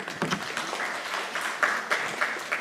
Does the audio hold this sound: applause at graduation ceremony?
yes